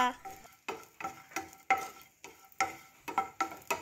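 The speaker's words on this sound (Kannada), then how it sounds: "ತುಪ್ಪ ಬೆಚ್ಚಾರ ಆಲ್ರೆಡಿ ಪ್ಯಾನ್ ಬೆಚ್ಚಾತುಂಡು ಓಕೆ ಇತ್ತೆ ಒಂದು ದ್ರಾಕ್ಷಿ ಫ್ರೈ ಮಾಡ್ತಗ" Raisins frying in hot ghee in a pan, heard as a rhythmic series of scraping stirs, roughly ten strokes, each with a short sizzling hiss and a light metallic clink, close and moderately quiet with no talking.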